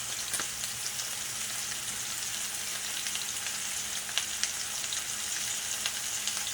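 A steak fries in a frying pan with a constant, even sizzle and faint crackle at moderate volume, marked by occasional small pops and ticks.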